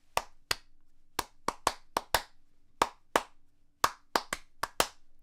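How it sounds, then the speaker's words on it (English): Bare hands clap out a melodic rhythm alone, about fifteen crisp, close claps in an uneven, syncopated pattern with short gaps and quick pairs, like a song's tune tapped out without pitch. "if you just clap your melodic rhythms"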